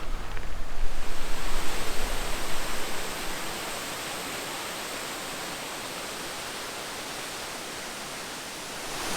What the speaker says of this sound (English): this waterfall that we're approaching right now. I can hear it.